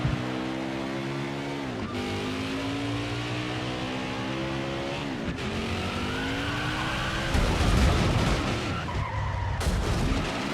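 NASCAR Heat 5 race car doing a celebration burnout after a road course race at Watkins Glen, engine droning high and steady, then tires squealing and roaring louder near the end.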